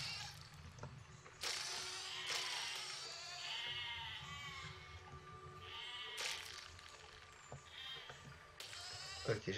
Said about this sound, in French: Ok, les moutons se suicident.